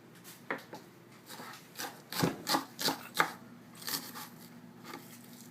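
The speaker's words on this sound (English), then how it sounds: "we're going to slice up our shallot" A knife slices a shallot on a cutting board, with a run of close, crisp taps and scrapes in an uneven rhythm, some quick pairs, fairly quiet overall.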